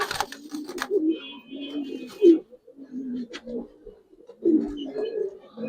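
Silver giribaz pigeons coo in low, throaty bursts close by, with someone talking intermittently between and over the calls.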